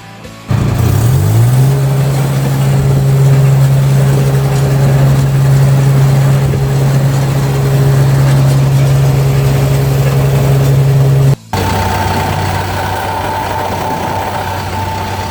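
Bomag construction machine engine starting and then idling close by, a loud steady diesel drone that holds for about ten seconds, cuts out briefly, then resumes at a slightly different pitch.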